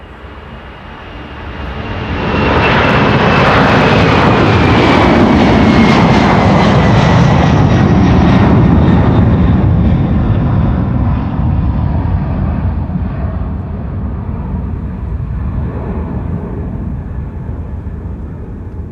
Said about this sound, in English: 747 time, ladies and gentlemen. Going to Miami, Florida. This is KLM Martin Air Flight 6161.